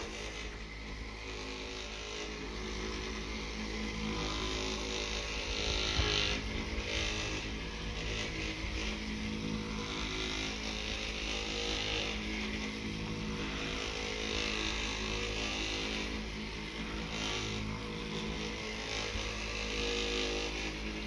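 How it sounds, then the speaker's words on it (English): Homedics Jeanie Rub electric massager running at its single speed, a steady loud motor drone with continuous buzzing vibration that holds throughout with slight swells, no talking. "It's a Jeanie rub massager."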